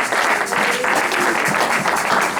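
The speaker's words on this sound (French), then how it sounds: "On applaudit le roi des rois." Congregation applauding during a church service in Nancy, loud dense clapping from many hands filling the room, continuous and even throughout.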